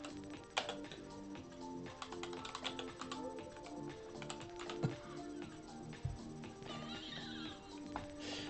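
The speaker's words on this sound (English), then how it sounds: "I'm typing" Continuous typing on a computer keyboard, rapid clicking key strikes throughout, set against a busy, noisy background with horse-like neighing sounds and no clear talk.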